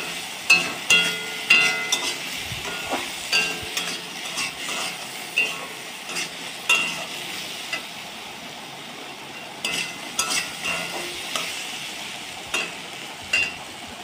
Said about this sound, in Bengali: দিয়ে আবার নাড়িয়ে চাড়িয়ে কষিয়ে নিলাম